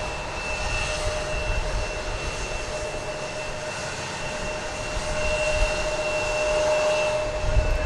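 Jet airliner engines roar steadily at DFW Airport, a broad continuous rumble with a faint steady whine, swelling slightly louder toward the end, with no talking.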